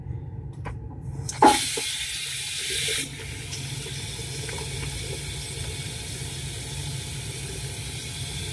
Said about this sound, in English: Take a washcloth, pour some warm water over it.